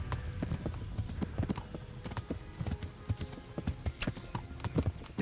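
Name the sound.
horse galloping hooves in video game Kingdom Come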